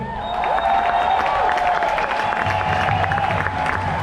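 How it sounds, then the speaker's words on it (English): A rally crowd at a freedom march claps and cheers together in sustained applause. A steady tone sits under the noise, likely from the PA or a horn. "Round of applause for him."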